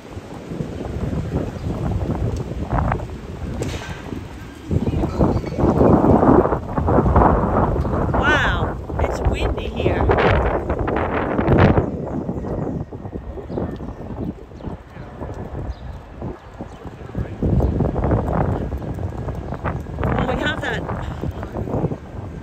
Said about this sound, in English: Wow, listen to the wind, guys.